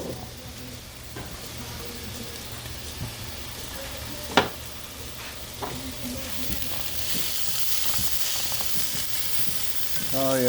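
Food searing in a hot pan gives a continuous close sizzle with occasional sharp pops and crackles, building slightly louder toward the end, with no talking over it.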